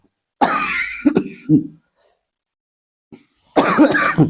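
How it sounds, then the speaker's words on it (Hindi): Two bouts of coughing, a few harsh coughs close together, then a pause of silence before another rough cough. "थोड़ा खांसी हो गया"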